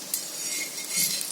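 Metal tongs clinking against a hot pan while alu vadi are turned, two or three light, close metallic taps over a faint background sizzle.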